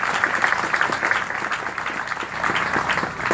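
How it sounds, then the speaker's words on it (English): Crowd applause at an outdoor Republican rally in Greenwich, Connecticut: steady, dense clapping from a large gathering that holds even and moderately loud throughout, with no voice over it. "Give yourselves a round of applause."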